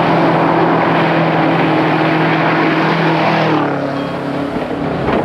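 A turbocharged four-wheel-drive Subaru rally car drives past, its loud, sustained engine drone humming with steady harmonics, then dropping slightly in pitch near the end, with no talk over it.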